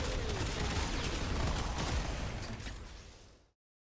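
A shotgun in the Warframe video game fires in a rapid, continuous stream of blasts, loud and close, that runs for about three and a half seconds before cutting off to silence.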